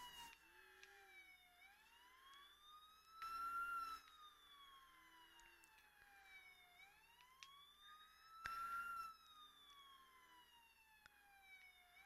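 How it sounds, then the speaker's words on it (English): A police car siren in a video game wails in repeated rising and falling sweeps, steady and fairly clear, with occasional bursts of louder noise between cycles. "I'm gonna put the siren on too."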